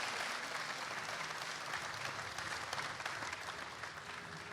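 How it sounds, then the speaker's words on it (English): An audience at a gaming convention talk gives a steady round of applause for two speakers, a dense sustained clapping that fades slightly as it goes on. "if we could have one big, massive round of applause for the two of these guys"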